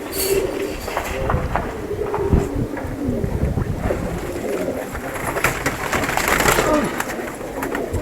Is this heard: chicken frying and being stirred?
no